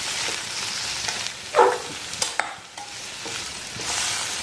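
Peanut powder is stirred into a stir-fry of broad beans in a pan, a soft continuous sizzle with a few close spoon scrapes and knocks against the pan, and no voices.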